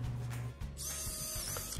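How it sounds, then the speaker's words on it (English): A power drill with a Forstner bit bores into wood while building a rocking chair from a whiskey barrel: a low motor hum, then a sharper high whine as the bit spins up, short and close, with no talk. "we've got a pre-drill and do the Forstner bit on 6 new holes"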